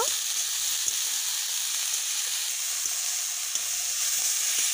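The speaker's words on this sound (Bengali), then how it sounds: "ফোড়নটা মিশিয়ে নেওয়া হয়ে গেলে কেটে রাখা শাকগুলো দিয়ে দেব, ভালোভাবে মিশিয়ে নেব।" Chopped khesari greens fry and get stirred in a pan, giving a steady close sizzle with a few soft scrapes and clicks throughout.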